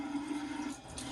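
Tap water trickles steadily onto a shaving brush during a travel shave, a continuous soft, even stream with a low background hum and no talking.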